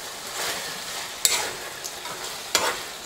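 A gravy base of ground beef for shepherd's pie, cooking on medium heat, is stirred in a pan with a soft sizzle and a few sharper scrapes of the spoon.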